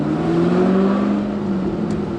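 A Walkinshaw Performance VXR8 V8 with a manual gearbox gives a loud, steady, deep engine drone heard from inside on the road, holding a sustained rumbling tone throughout.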